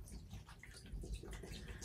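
Photo-on-fabric solution poured from a container into a shallow pan to cover its bottom, a steady watery splashing and trickling that runs throughout, close and fairly soft.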